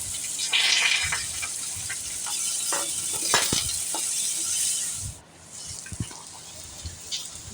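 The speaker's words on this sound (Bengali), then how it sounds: "ডালটা ভালো করে একটু ভাজিয়ে নেব।" Washed lentils (dal) with grated ginger fry in a pan for khichuri, sizzling steadily as a spoon scrapes and stirs in repeated strokes. The sound is close and loud, then drops briefly near the end.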